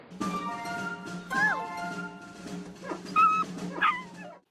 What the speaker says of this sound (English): Pretty soon, Pal's barking blows Arthur's cover